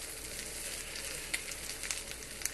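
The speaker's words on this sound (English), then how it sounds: "You should hear a slight sizzle when you hit it." A faint, steady sizzle of crispy chicken thighs searing cut side down in a hot pan, with a few small pops and crackles over an even hiss.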